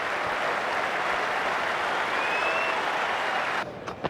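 Sustained applause from a large crowd at a Test cricket match in Australia, a steady dense wash of clapping that holds loud before dropping away sharply near the end, with a few scattered claps left.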